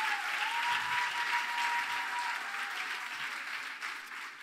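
An audience applauding at a church gathering, dense sustained clapping that carries on evenly and gradually thins, with no voice on top.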